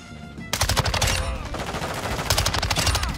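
Loud bursts of MX9 submachine gun fire in Modern Warfare 2, rapid close automatic shots sustained over about three seconds with a short dip midway.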